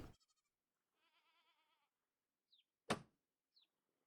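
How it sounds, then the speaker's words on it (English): A small, thin bleat from a baby goat in the video game Vintage Story, followed by a couple of brief chirpy calls and a sharp knock, all quiet against near silence. "No, I'm hearing the little baby goat."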